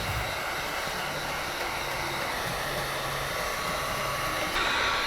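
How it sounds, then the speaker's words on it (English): Heat gun blowing hot air steadily along the top edge of window tint film on a BMW X4 M Competition front door glass, a continuous airy whoosh with a faint low hum, held level and close throughout. "And the heat gun to seal up that top edge."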